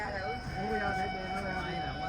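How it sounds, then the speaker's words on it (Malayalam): A Gatimaan Express hauled by a WAP-5 electric locomotive overtakes on a parallel track, a steady close rumble with a sustained horn-like tone running throughout the short stretch. "ഹസ്രത് നിസാമുദ്ദീനിൽ നിന്ന് ഝാൻസിയിലേക്ക് പോകുന്ന ഗതിമാൻ എക്സ്പ്രസ് ഈ ട്രെയിൻ ഇപ്പോൾ ഇവിടുന്ന് ഓവർടേക്ക് ചെയ്യും"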